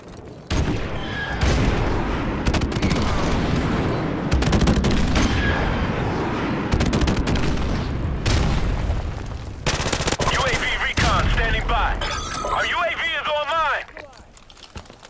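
Airstrike and gunfire in the video game Modern Warfare Remastered during a Search and Destroy match: repeated loud gunshot bursts and booming impacts over a busy battlefield, with radio-style voice callouts heard over the action.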